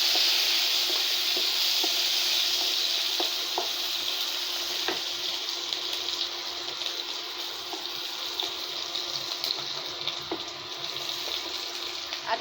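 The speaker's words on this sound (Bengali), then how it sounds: "এখন রুই মাছটা ভাজা করতেছি।" Rohu fish frying in a pan, a continuous hissing sizzle close by with faint clicks and pops over low background noise.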